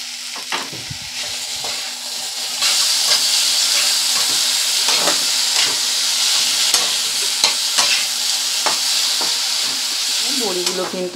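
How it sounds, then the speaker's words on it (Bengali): Tomatoes and spices stir-fried in a pan for a Bengali fish curry, a steady loud sizzle with scraping stirring strokes throughout and a brief clatter near the end. "সব উপকরণগুলোকে কিন্তু আমি ভালো করে একটু কষিয়ে নেব।"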